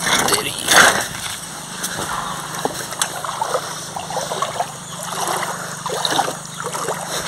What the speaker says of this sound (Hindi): पानी इधर से आ रहा है, पता नहीं कहीं से आ रहा होगा और उधर निकल जा रहा है।